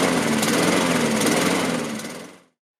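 A Laser lawnmower with a Honda GCV135 engine, air filter removed, runs with a steady, close engine drone and a lumpy idle, then cuts out abruptly near the end.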